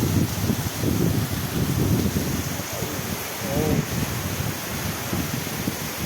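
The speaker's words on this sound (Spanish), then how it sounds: "Ahora sí que está lloviendo, sí. Ahora mismo aquí en Murcia." Heavy torrential rain pours down outdoors in Murcia during a storm, a dense steady roar of broadband noise with rumbling wind buffeting the microphone, loud and continuous without a break.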